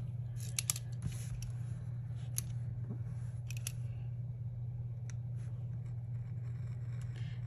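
A sheet of planner stickers being cut, a few faint crisp snips and clicks scattered over a steady low hum, close and quiet, with no talk.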